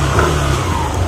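A Yamaha Aerox scooter with a standard engine and a tuned CVT revs loudly and steadily up close, a continuous throaty engine roar with no talk.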